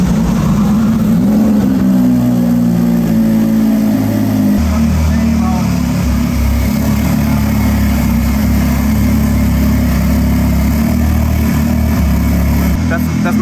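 Loud, close engine roar from the Porsche 911 Hoonipigasus race car, a deep revving drone that rises then settles into a sustained heavy idle-to-rev rumble, with people talking underneath.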